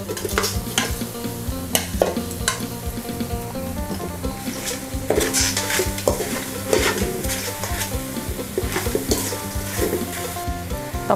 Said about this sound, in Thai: พอเครื่องหอมแล้วนะคะต่อไปเราก็จะใส่ไก่บ้านของเราลงไปเลยค่ะ